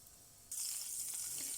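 Chicken pieces sit in a pan as vegetable oil and about 50 grams of butter go in, and a bright, steady sizzle suddenly rises and holds.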